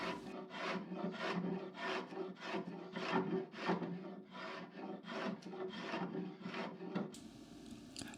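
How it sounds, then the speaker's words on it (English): Hand sanding of wood on a handmade PC desk, with rhythmic back-and-forth rasping strokes about twice a second, close and steady, then a brief shift to a different scraping texture near the end. "A nice sand down to make sure all the grooves and everything that was left behind are out"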